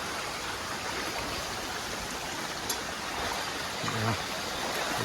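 Steady broadband rush of a river flowing over rocks, continuous and fairly close, with a faint voice briefly near the end.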